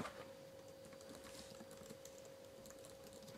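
Typing on a new white computer keyboard: a steady stream of quick, soft key clicks that keeps going the whole time, fairly quiet and close, with a faint steady hum behind it and no talking.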